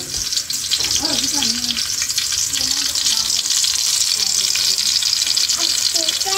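Garlic and chopped onions frying in hot oil, a loud continuous hiss and crackle of sizzling that holds steady throughout, with faint clinks and a voice briefly heard underneath.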